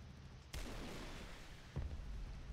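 A jet in a video game fires rockets, two sharp broadband bursts about a second apart, each launch swelling into a loud sustained roar that carries on under the action.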